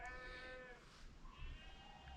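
A single sheep gives one quavering bleat that fades out, fairly faint over a low background rumble, followed by a soft second call.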